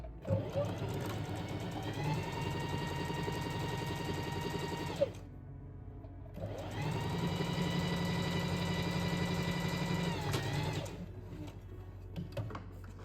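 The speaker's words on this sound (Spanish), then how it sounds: "Yo voy a coser a 1 centímetro igual" Domestic sewing machine running a straight seam in fabric about 1 cm from the edge, a steady close mechanical whir in two long bursts separated by a brief pause, ending with small clicks.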